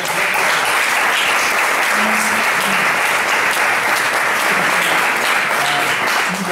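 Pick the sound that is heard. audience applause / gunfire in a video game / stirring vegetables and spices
audience applause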